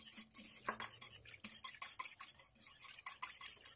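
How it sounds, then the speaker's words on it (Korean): Seasoning sauce with vinegar for pickled shepherd's purse is stirred in a container, a spoon clinking and scraping in quick repeated strokes, close but quiet. "이 정도 저으면 양념이 고루 다 혼합이 잘 됐어요"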